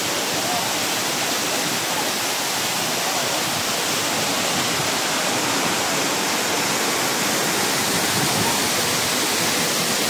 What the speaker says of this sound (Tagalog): The falls. Yeah. It's very long.